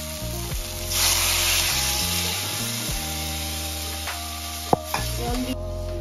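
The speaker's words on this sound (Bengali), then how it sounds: "তো এবারে জল দেবো" Water goes into a pan of frying potatoes and fresh vegetable stalks, setting off a burst of hissing sizzle that settles into quieter bubbling and a few utensil knocks, heard up close.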